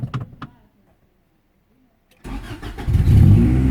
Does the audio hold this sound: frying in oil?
no